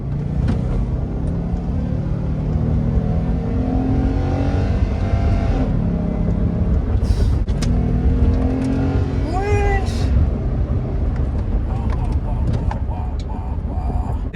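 A pickup truck engine revs and accelerates with the windows open on a Texas road, a steady loud rumble and roar filling the whole stretch, with wind noise and voices heard briefly over it.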